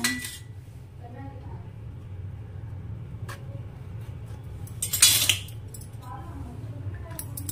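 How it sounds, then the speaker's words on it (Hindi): Seeds scooped out of a pointed gourd with a spoon: soft scraping and light metallic clinks, with one sharper scrape midway, over a low background hum and intermittent quiet voice. "बहुत ही इजीली ये चम्मच से निकल जाता है"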